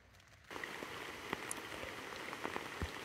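Steady rain falls in a forest at night, a soft continuous patter with occasional heavier drops hitting nearby surfaces, rising in after a quieter start and no voices.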